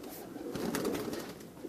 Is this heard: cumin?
no